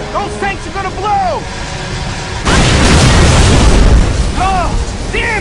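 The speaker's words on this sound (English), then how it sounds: "Those tanks are gonna blow!" Tanks explode aboard a ship in the Gears of War 3 video game with a loud booming blast that bursts in mid-clip and rumbles on, while shouted voices with whooping sirenlike tones sound before and after.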